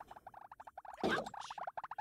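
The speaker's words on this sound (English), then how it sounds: "That's the sound of those dudes' footsteps." Rapid bubbling, popping footsteps of small creatures in Super Mario Sunshine patter in quick, even clusters, broken midway by a brief louder burst of game noise before the soft pops resume.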